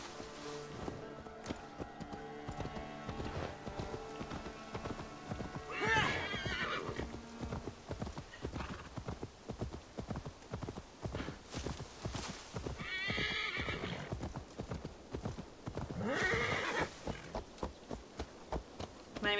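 A horse gallops in the video game Assassin's Creed Valhalla, its hooves beating a steady rapid rhythm with a couple of whinnies, fairly quiet overall.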